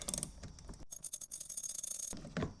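A hand ratchet clicks in quick, close, faint bursts while bolts are undone on a Fisker Ocean, the rapid pawl ticks broken by a short pause.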